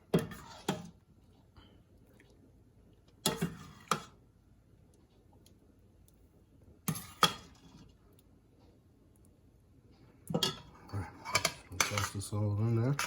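Pasta being coated with leftover homemade marinara sauce in a pan, heard as scattered clinks and scrapes of a utensil against cookware, with several separate bursts and a busier stretch of stirring toward the end.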